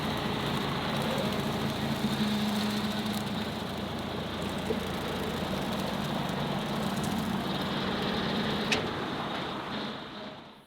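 A compact tractor engine runs steadily with a low droning hum, moderately loud and unbroken, while mowing pond banks with a rotary cutter, easing off and fading right at the end.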